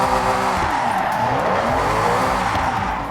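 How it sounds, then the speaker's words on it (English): Tires squeal steadily as a car drifts through a huge container dock in the Forza Horizon 6 racing game, a loud continuous screech over a revving engine lasting the whole stretch. "I've loved looking for complex drift lines at the huge docks"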